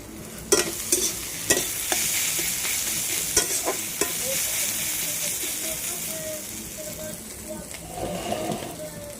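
Onions and fish fry together in a pan at lunchtime with a lively, close sizzle, punctuated early by several sharp clinks and scrapes of stirring.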